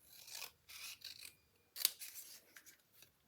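Scissors snip through quilting fabric, cutting a pieced block through the middle in a few short, close, quiet strokes with brief pauses between them.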